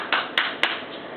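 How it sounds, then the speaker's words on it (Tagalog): A 9½-month-old baby claps hands three times, soft and close, in a quiet room. "Uy, may palakpak pa."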